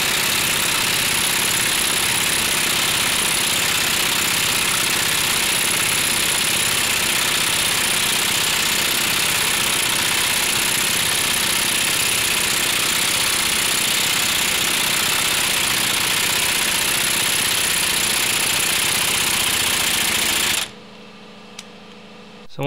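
Impact gun driving a replacement wheel stud into a hub, producing a steady, loud rattling hammer and buzz that runs continuously and then cuts off abruptly near the end.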